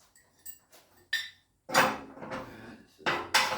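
Hammer tapping on metal parts during a 1946 Jeep restoration in a workshop, a few sharp clanking strikes followed by louder, longer metallic bursts near the mic, with quiet gaps between.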